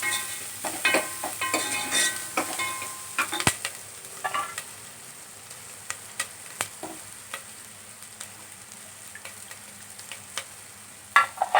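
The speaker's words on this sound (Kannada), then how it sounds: "ಈರುಳ್ಳಿ ಕೆಂಪುಗಾಗಂಗೆ ಬೇಯಬೇಕು ಒಗ್ಗರಣೆ ಒಳಗೆ" Onions fry in hot tempering oil for bassaru, a steady close sizzle broken by frequent crackles and pops and occasional stirring clinks. It runs continuously throughout, with no voices.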